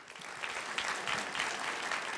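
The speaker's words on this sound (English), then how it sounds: "give them a round of applause" A crowd claps steadily and fairly loudly throughout, dense applause with no pauses, after a performance at a poetry recitation competition.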